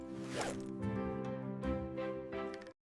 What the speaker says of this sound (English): Z is for zip your backpack.